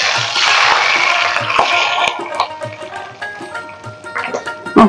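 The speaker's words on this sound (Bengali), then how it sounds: "পেঁয়াজটা বাদামি কালার হয়ে আসছে, এখন আমি তরকারির উপরে ছেড়ে দিব" Browned fried onions poured over a pot of beef curry give a hissing, watery rush that builds and then breaks into scattered sizzles and small crackles as the pouring tapers off, close and fairly loud.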